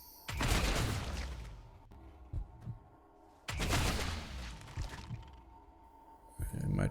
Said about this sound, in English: Just see how many of them he can take out with the plasma rifle here.